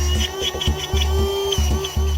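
A DeWalt cordless tire inflator runs close by with a pulsing mechanical chug, a rapid regular beat of compressor strokes under a steady whine.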